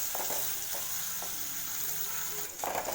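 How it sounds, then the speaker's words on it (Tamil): Garlic sautéing in oil over a low flame for Tamil garlic rice, a quiet continuous sizzle with a few faint stirring taps and a slightly louder scrape near the end. "லோ ஃப்ளேம்லேயே வச்சு பூண்டை வதக்கி விடுங்க"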